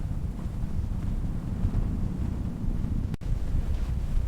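Storm wind roars in a continuous, loud buffeting rush that batters the microphone, with one brief sharp dropout near the end and no voices.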